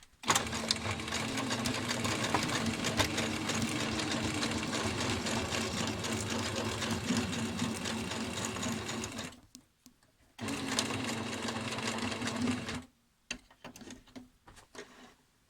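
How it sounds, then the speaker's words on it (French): A sewing machine stitching down pleats in fabric, needle close to the right edge, runs in a loud steady whir with two brief pauses, then a short final burst and a few clicks. "Maintenez vos plis grâce à une couture nervure avec l'aiguille bien à droite."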